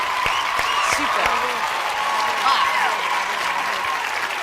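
Sustained audience applause fills a television talent-show hall at France Got Talent, steady and dense throughout, with a host's voice speaking over the clapping.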